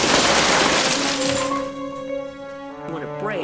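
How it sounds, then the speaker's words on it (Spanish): Safety glass of the kind used in windows and doors shatters with a loud, close crash that breaks into a ringing, tinkling scatter of fragments as it fades. "Cuando se rompe, se convierte en cientos, si no miles, de partículas de cristal"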